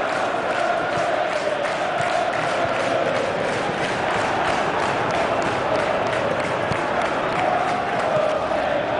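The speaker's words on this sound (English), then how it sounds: "Well, the crowd clearly like what they just saw." Stadium crowd in a PES football match, Chelsea versus Tottenham Hotspur: a steady, dense roar of cheering that holds at an even level throughout.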